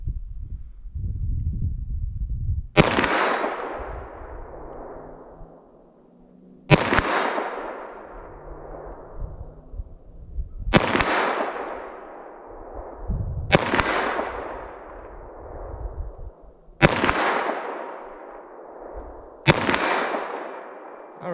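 Six 9mm+P pistol shots with external hollow point rounds from a 5-inch barrel at 50 yards ring out at a steady, unhurried pace, each a loud crack followed by a long reverberating decay over low background rumble.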